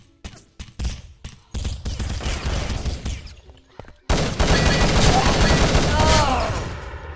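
Grenade blasts and rapid gunfire in a competitive team shooter match, a burst of separate shots followed by sustained loud firing and explosions that continue to the end, with a commentator talking over parts of it.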